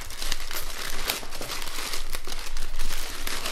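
Packaging crinkles and tears as the power cable of a Logitech Z623 THX subwoofer is pulled free, a close, rustling stream of irregular crumpling bursts with no talking.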